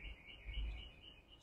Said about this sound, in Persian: پرنده ها هم دارن میخونن.